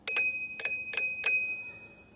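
Bicycle bells mounted on a bike at a campsite in Green Lakes State Park ring in four quick double rings, close and loud, each bright metallic ring fading before the next, with no talk.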